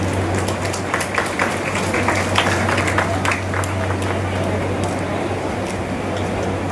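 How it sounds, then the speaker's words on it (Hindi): An audience at a student award ceremony applauds a recipient, a steady dense wash of clapping held throughout with a low hum underneath. "जोरदार तालियां वैष्णवी के लिए"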